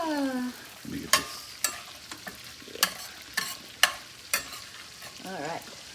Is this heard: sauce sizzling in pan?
yes